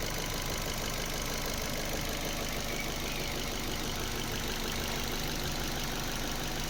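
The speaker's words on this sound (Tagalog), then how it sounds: "Sobrang smooth na talaga yung andar ng makina ngayon." A Ford Fiesta automatic idles evenly after new spark plugs and an ignition coil, a faint steady hum with a light rhythmic ticking and no voices.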